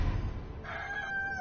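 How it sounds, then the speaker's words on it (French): A demonic rooster mini-boss in a video game lets out a crow, a rising then sustained tonal call in the second half over a dense low rumble of game background noise. "ça, le coq démoniaque"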